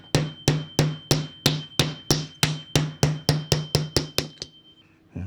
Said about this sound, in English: Get out our small hammer and give it a bash.